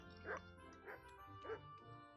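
A dog in Kingdom Come: Deliverance gives three separate barks with yips, fairly close, at an even pace.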